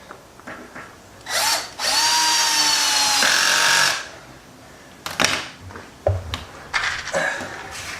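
A power drill drives stainless steel screws into hinges on a boat hatch, with two sustained whining runs of a couple of seconds each, followed by several short bursts and clicks.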